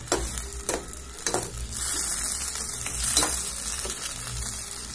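Whole green chillies, cardamom, cloves, cinnamon and bay leaf fry in hot oil for catering-style biryani, a loud continuous sizzle with occasional stirring scrapes.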